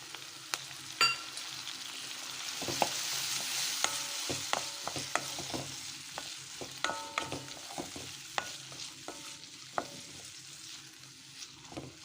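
Rice and lentils with turmeric fry gently in a pan, a soft sizzle under repeated sharp taps and scrapes of a stirring spoon against the metal, close and fairly quiet, no talking.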